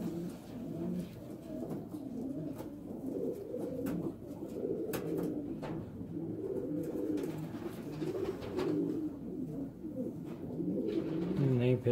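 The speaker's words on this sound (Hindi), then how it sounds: "बहुत ही प्यारा कबूतर है" Pigeon cooing from a pet pigeon perched on a training perch, soft repeated low coos running steadily and fairly close throughout, with a denser cooing burst near the end.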